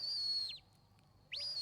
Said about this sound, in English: As he gives a bit of a redirect whistle.